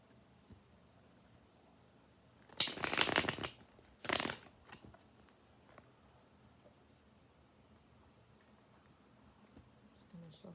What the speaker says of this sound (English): Just going to shuffle one more time